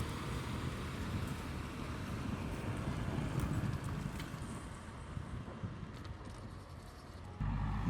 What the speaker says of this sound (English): electric version makes only sounds of wheels moving in snow